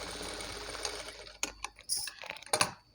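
A sewing machine makes a few quick stitches at a blouse neckline, a soft whir at first and then sharp clicking and rattling bursts that stop and start, close up and fairly quiet.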